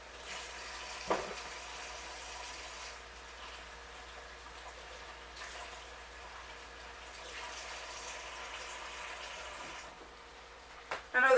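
Tap water runs steadily into a sink while mushrooms are rinsed before slicing for a sirloin steak dinner, a soft continuous wash with a brief clatter near the start and a louder knock at the end.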